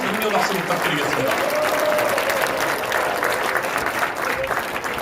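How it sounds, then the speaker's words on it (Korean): Loud, dense applause from a crowd at a political party's presidential campaign launch rally in Korea, with continuous clapping filling the whole stretch and scattered voices and cheers mixed in underneath. "큰 격려 박수 부탁드리겠습니다."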